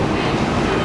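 A JR Osaka Loop Line train pulling out of Osaka station, a steady broadband rumble of the carriage with no distinct events, heard from inside.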